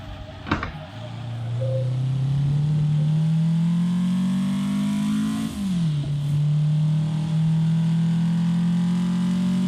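Race car engine in Assetto Corsa, a thin buzzy note likened to a lawnmower, climbing steadily in pitch, dropping sharply on a shift, then rising again; loud and continuous with a brief click near the start.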